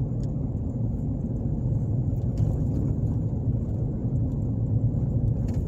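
A car drives through Ozark, Alabama, giving a steady low rumble of engine and road noise heard from inside the cabin, constant and without talk.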